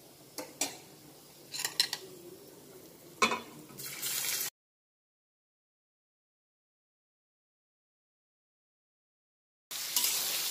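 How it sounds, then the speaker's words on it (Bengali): Leftover rice is stirred through hot oil in a pan just emptied of fried vegetables, with spatula clinks and scraping over a soft sizzle for about four seconds. Silence follows, then the frying briefly resumes. "ভালোভাবে নাড়তে হবে, সবসময় নাড়তে হবে, যাতে নিচে লেগে না যায়।"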